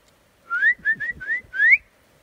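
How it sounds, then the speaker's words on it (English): A person whistles a short tune of five quick, rising notes, clear and close, outdoors near a black bear in the wild, with nothing else around it. "Whistling apparently has no effect."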